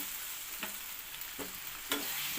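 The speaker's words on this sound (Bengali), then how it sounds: "এবারে আমি ভেজে রাখা আলুগুলো দিয়ে দেব।" Fried potatoes tipped into a pan of sizzling, cooked-down Bengali spice masala and stirred: a steady loud frying hiss with a few scraping stirs, close up and alone.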